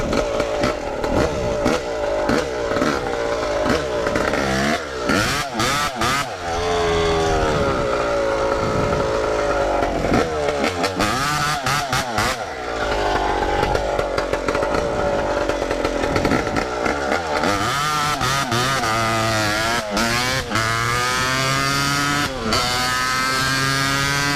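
A Yamaha YZ250 two-stroke dirt bike is ridden hard, its engine buzzing loud and close with repeated revs, sharp throttle chops and rising and falling pitch through gear changes, and no talk.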